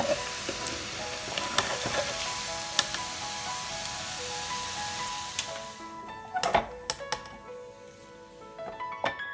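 Bacon sizzles steadily in a frying pan of oil, a close, even hiss broken by small pops and a few clinks of utensils.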